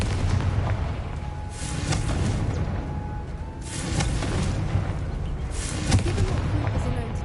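Fiery spell blasts in Hogwarts Legacy, sounding as several booming, explosive bursts with crackling over a continuous rumbling game soundscape.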